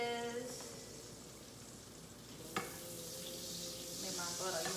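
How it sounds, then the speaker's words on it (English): Butter and cooking wine simmer in a pan for shrimp scampi, a steady soft sizzle broken by one sharp utensil clink midway, with the bubbling growing slightly brighter afterward. "Make my butter, you know, simmer, simmer, simmer. You want it to simmer."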